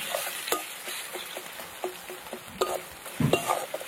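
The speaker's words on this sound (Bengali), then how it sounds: "আদা রসুন ভালো করে একদম ভেজে নেবো" Ginger and garlic paste frying with browned onions in a pan, a close sizzle broken by scattered spoon scrapes and stirring knocks, with a heavier clatter near the end.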